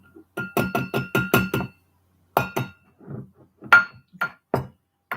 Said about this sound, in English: So I'm going to put some baking soda in.